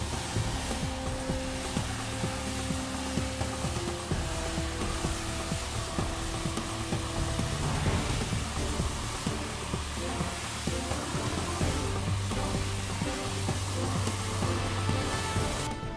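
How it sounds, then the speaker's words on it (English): A Line Vac air-operated conveyor blows compressed air to carry plastic media up to a 17-foot ceiling, giving a steady, loud rushing hiss with a busy rattle of pellets running through it from start to finish. "Turn on the compressed air and watch it convey."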